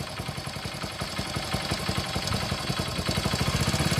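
A motorcycle engine with a worn timing chain runs with a fast, rattling clatter over its low thrum, close and steady, the beat quickening slightly toward the end.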